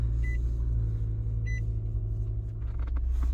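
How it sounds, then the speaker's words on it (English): A 2009-2014 Nissan Maxima engine idles with a steady, close, low rumble that holds throughout, with a couple of short electronic beeps chiming over it. "we're gonna start the car"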